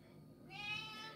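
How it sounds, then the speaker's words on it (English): A pet cat gives a single short, faint meow in a home kitchen, heard alone against quiet background noise. "Meow. Meow, what you want, Nippy?"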